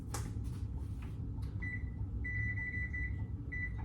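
Three electronic oven beeps, close and clear, as an oven is set to preheat to 375 degrees for muffins; a first short tone is followed by a longer one and a short final one over low kitchen hum.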